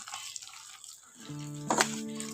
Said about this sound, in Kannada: ಸ್ವಲ್ಪ ನೀರು ಹಾಕೊಂಡು ಹಾಗೆ ಕಲಿಸ್ಕೋಬೇಕ್ರಿ